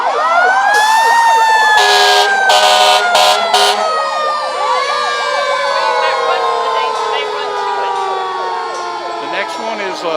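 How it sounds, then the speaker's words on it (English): A fire department brush truck in a Christmas parade sounds its siren loudly and continuously, with a wailing sweep rising and falling. Sharp air-horn blasts cut in near the start, and the siren keeps cycling for the whole stretch. "This is called a brush truck."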